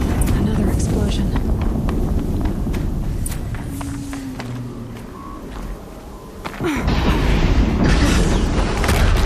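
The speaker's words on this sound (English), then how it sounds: "Another explosion." Explosions in Horizon Zero Dawn go off amid dense game combat, a booming low rumble running through most of the stretch, dipping briefly before another heavy burst swells back up, with footsteps and a voice mixed into the din.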